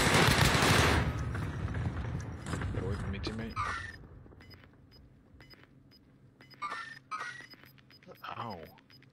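Gunfire in a video game starts as a loud, dense burst of rapid shots, then gives way to scattered metallic clicks and lighter game sounds while someone talks throughout.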